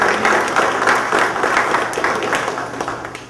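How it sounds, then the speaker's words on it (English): A small live audience at a mind-reading magic show claps for a volunteer called up on stage, a brief, fairly close burst of steady applause that builds and then tapers off. "A nice round of applause for the good gentleman, if you would."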